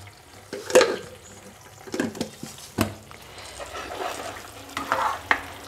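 Banana mixture with two big spoons of ghee and a pinch of salt stirred in a pan for toffee, a soft wet sizzle broken by several thick, sloshing scrapes and knocks of the spoon at uneven intervals.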